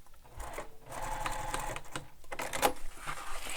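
A sewing machine stitches mesh onto a backpack in bursts, its rapid mechanical chatter starting and stopping with brief pauses between runs, close and moderately loud.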